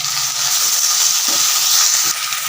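Cut tomatoes dropped into a hot pan for potato and brinjal gravy give a loud, close, steady hissing sizzle that holds evenly throughout, with no voices.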